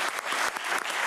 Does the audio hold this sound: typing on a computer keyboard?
no